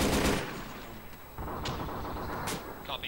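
Bursts of gunfire in a military video game firing an MG4 machine gun, a loud burst at the start followed by sparser shots and sharp cracks, with game noise running throughout.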